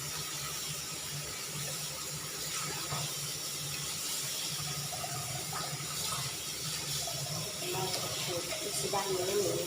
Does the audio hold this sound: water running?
yes